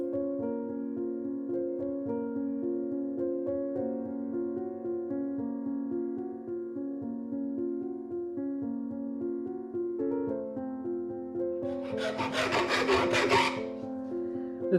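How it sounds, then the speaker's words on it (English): Japanese saw rasp filing a vintage wooden axe handle: a short burst of rough, scraping strokes near the end, close and brief, heard over a steady tonal background that runs through the whole clip. "This is a Japanese, what's referred to as a saw rasp."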